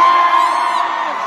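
A concert crowd at a world tour show at Zepp Kuala Lumpur screams and cheers, a loud, sustained wall of high-pitched shrieks and whoops from many fans at once.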